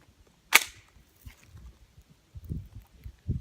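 A single sharp handgun shot cracks out loud and close at a shooting range, aimed at a zombie target, then low rustles and handling noises follow.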